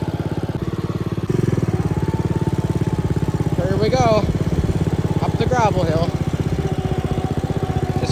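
A small John Deere lawn tractor engine chugs steadily at low revs in first gear, its buzzy drone rising slightly as it works, while someone talks over it.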